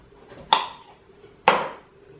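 Kitchen knife slicing through aubergines on a cutting board, two distinct crisp chops about a second apart, each a sharp knock on the board with a short fading tail, close and clear in a quiet room.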